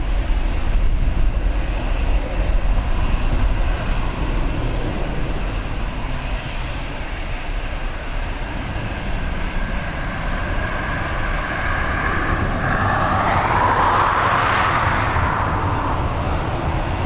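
A Ryanair airliner departs from runway 10R at Dublin Airport, its jet engines roaring loudly as it accelerates and climbs, with a rising whine swelling near the end over a steady rumbling background.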